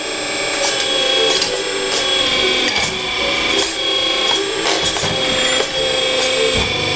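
An RC4wd 360L scale excavator's two-stage hydraulic pump runs on a single stage at half speed, giving a steady, close mechanical whir with ratcheting clicks and gear chatter throughout.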